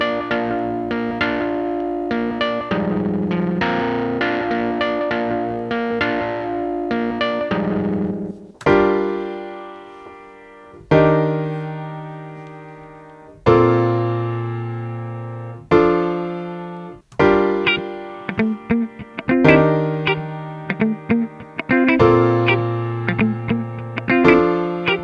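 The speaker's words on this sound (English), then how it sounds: "I'm actually using the Sculpture physical modeling synth in Logic, and it's being played through an amp with a pedal board." Sculpture physical modeling synth in Logic played through a guitar amp and pedal board, distorted echoing chords giving way to sharp plucked stabs that ring and decay, loud and close with no voices.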